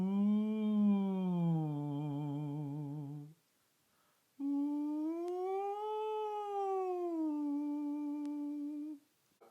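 A singer glides up and down through a fifth interval while singing through a straw during a vocal warm-up, a muffled, buzzy tone in two sustained phrases with a short silence between them.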